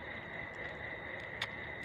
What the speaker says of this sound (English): crickets making a loud noise.